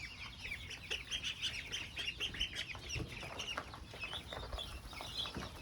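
A small flock of ducks chatters and quacks nearby in a busy, overlapping stream of calls, fairly quiet overall.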